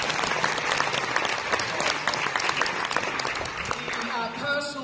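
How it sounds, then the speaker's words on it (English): A crowd applauds steadily at an awards ceremony, a dense patter of clapping hands lasting several seconds, with a voice speaking near the end. "A round of applause"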